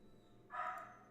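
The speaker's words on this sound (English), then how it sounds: "my dog is just whining" A dog whines in the background of a room, a short, faint, high-pitched cry rising briefly over a low steady hum.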